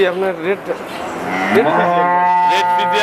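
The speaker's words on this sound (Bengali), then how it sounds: "এক নম্বর সিরিয়ালে মাঝারি সাইজের বাচ্চা সহ একটা সুন্দর কালারের গাভী গরু নিয়ে আসলেন" A Jersey Friesian mixed dairy cow, young with her first calf beside her, moos loudly and close by. A short call is followed by a longer, drawn-out moo, with no talking.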